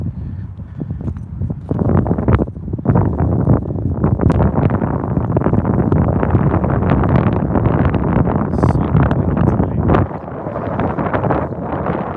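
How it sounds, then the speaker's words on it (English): Heavy wind at night rushes and rumbles against the microphone outdoors in Henderson, Nevada, loud and continuous, dropping briefly near the end before picking up again. "it's real windy over here tonight"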